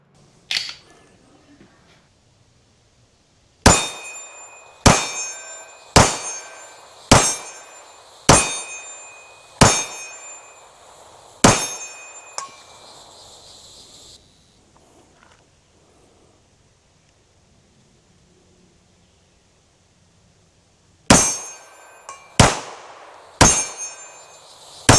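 Staccato HD P4.5 pistol firing outdoors, one early shot and then a string of seven sharp, evenly spaced reports, a long pause, then three more quick shots, each with a short ringing decay.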